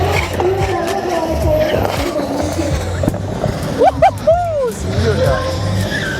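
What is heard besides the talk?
car drifting with skidding tyres on gymkhana track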